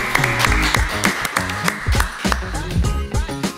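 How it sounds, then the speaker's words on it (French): Audience applause at a live podcast recording, a burst of close, lively clapping with cheers and voices mixed in, lasting several seconds. "On peut applaudir Elodie, je pense."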